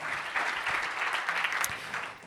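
An audience applauds steadily at a finance awards ceremony, the Financium 2022 DAF and Jeune Financier trophies, with dense, even clapping that holds at a fairly loud level throughout with no voices over it.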